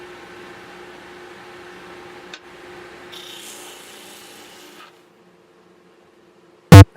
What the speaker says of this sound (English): I cleaned up those spots on my large disc sander.